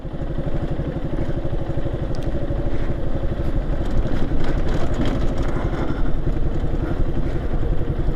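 A motorcycle engine runs steadily and close while riding alone through hilly tea gardens, a continuous rumbling throb with slight clatter and no talk.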